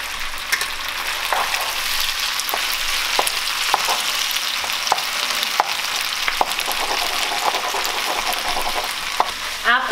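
An egg sizzles and fries in a hot pan for a Thai pasta stir fry, a steady close crackle punctuated by sharp pops and utensil scrapes.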